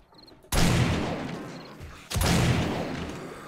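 Shotgun blasts in the video game 7 Days to Die: two loud, close booming shots about a second and a half apart, each followed by a decaying rumble.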